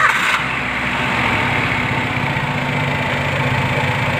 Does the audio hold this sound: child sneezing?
no